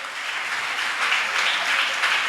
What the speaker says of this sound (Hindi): ताली बहुत कम बज रही